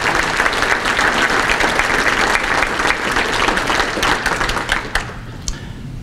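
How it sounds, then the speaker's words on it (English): An audience at a county economic address breaks into sustained applause, a dense wash of many hands clapping that fades out near the end into a few scattered claps. "Let's give them a round of applause for doing that."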